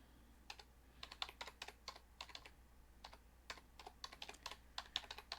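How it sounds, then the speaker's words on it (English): Fingers type on a computer keyboard in short irregular bursts of quick, light clicks, close and quiet with no talking. "When you manually type links in"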